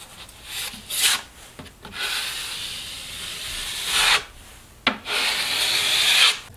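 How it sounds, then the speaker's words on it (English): A drywall knife spreads joint compound over a patched hole in a wall, giving long, loud, hissing scrapes in several separate passes with brief pauses between strokes. "All we have to do now is mud our repair area."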